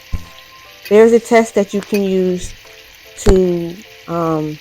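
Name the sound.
steak sizzling while basted with rosemary butter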